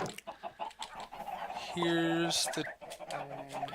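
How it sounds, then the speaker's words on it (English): Minecraft chickens cluck in a few short, pitched calls amid game sounds while someone talks over them at moderate volume. "you can see the chickens"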